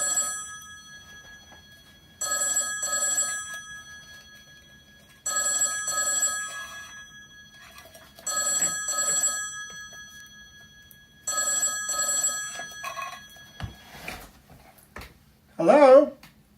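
A landline telephone with no caller ID rings in repeated double bursts separated by pauses, loud and close, and then a voice briefly answers at the end.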